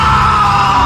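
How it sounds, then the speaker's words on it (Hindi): A man lets out a loud, sustained terrified yell on opening a fridge, a single strained cry held steady for under a second. "ध्रुव के गले से एक अजीब सी डरी हुई चीख निकली"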